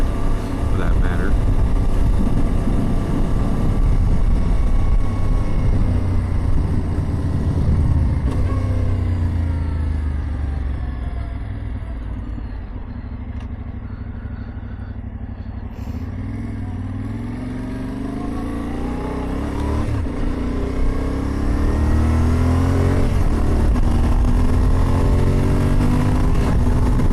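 Yamaha Tenere 700 motorcycle with a Barnett clutch riding along, steady engine rumble and shifting tones over wind, easing off in the middle before building again, with a voice talking over it.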